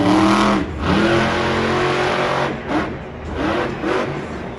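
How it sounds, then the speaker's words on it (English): Engine of the Monster Jam truck Blue Thunder revs hard in a freestyle run at an arena event in Denver, the roar surging and dropping in several loud bursts. "Now Todd Leduc, the last truck out here in freestyle"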